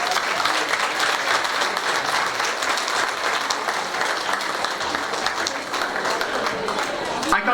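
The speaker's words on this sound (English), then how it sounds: "So I would like to actually ask you to join me in a round of applause to recognize" A cultural event audience breaks into sustained, loud applause, many hands clapping evenly throughout with no break.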